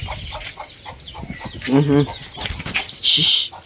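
A hen clucks near her three chicks inside a quail shed on a farm. Her short, close clucks come in a brief burst midway, followed by a quick cluster of high, thin chick peeps.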